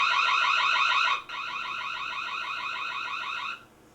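A Reolink Home Hub's built-in speaker sounds its alarm: a loud, rapidly pulsing electronic siren with a brief dropout partway through, continuing for a few seconds and then stopping.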